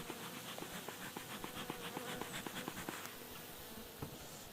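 Honeybees swarm around populous ten-frame beehives in autumn, a soft close buzz with pulsing, fluttering wingbeats passing near, quiet and steady with no voices.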